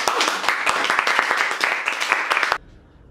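A short burst of clapping during a two-person game-show style challenge, brisk distinct claps from a small group that continue for a couple of seconds, then stop abruptly into near silence.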